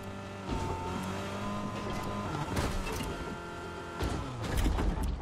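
A car engine in a video game drones steadily under music-like tonal layers, with a couple of louder revving surges near the middle and end, no talk over it.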